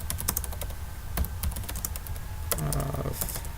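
Rapid clicking of keys on a computer keyboard, irregular bursts of typing with brief pauses, close by and fairly quiet.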